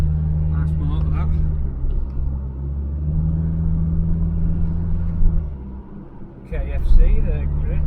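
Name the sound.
Interceptor car engine driving past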